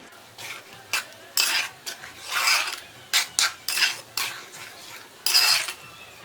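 Pineapple pachadi being stirred in a pan with a spatula, irregular scraping strokes of utensil against metal, a string of short bursts with brief pauses between them, close and clear with no talk.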